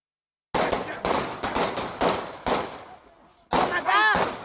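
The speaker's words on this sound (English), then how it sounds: "captures the gunshots that follow" A rapid series of sharp, loud gunshots on Menlo Street, about eight cracks in quick bursts, with a pause near the end and an excited voice shouting over the last shots.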